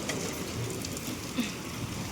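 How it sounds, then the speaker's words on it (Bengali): Heavy rain falls outside and is heard as a steady, dense hiss of drops across the whole short moment, fairly soft overall and with no talking. "এই দেখো এত বৃষ্টি হচ্ছে"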